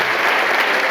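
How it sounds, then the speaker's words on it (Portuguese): Applause from a church congregation, a steady, dense wash of clapping filling the whole second at close, even loudness with no voices standing out. "Dê aplausos para Jesus."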